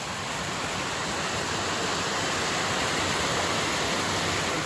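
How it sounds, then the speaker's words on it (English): A steady, dense rush of a waterfall at Camp Michaux, heard from the top, fills the clip, loud and unbroken from start to finish, with no voices. "And here's that waterfall."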